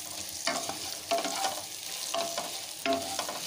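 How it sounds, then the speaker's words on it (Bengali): Radish frying with turmeric in a pan, a soft continuous sizzle broken by four distinct scraping strokes as the pieces are stirred, close and fairly quiet. "হলুদটা দেওয়ার পরে এটাকে একটু নাড়াচাড়া করে হলুদটা মিশিয়ে নিচ্ছি।"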